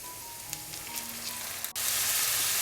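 Chopped cabbage sizzles in a hot pan for Kerala cabbage thoran, a steady close frying hiss with a few faint clinks, then a brief dip and a louder, brighter sizzle.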